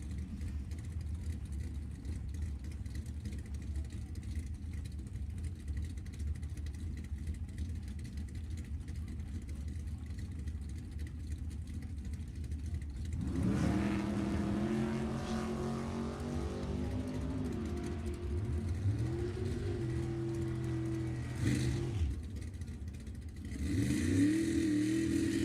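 A 1968 Camaro and a 1963 Nova launch side by side at a drag strip, a distant steady rumble erupting into loud roaring acceleration with rising engine harmonics, then a second burst as more engine noise passes.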